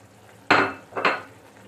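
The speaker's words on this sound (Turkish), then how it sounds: "Şöyle güzel bir karıştıralım." A utensil stirs menemen with two added egg yolks in a pan, two close, wet scraping sweeps in quick succession over a faint background hiss.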